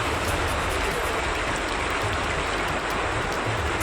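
Floodwater from the swollen Brahmaputra pours through an inundated town in Assam, a loud, dense, unbroken rushing roar with no pauses or voices.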